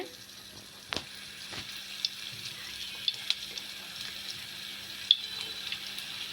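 Batter fries in hot oil on a stove, a soft steady sizzle with a faint hum and a few sharp clicks and pops scattered throughout.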